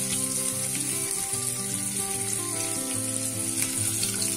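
Eggs frying in a pan for egg korma, a loud continuous sizzle and crackle of hot oil close up, with a steady hum in the background and no talking.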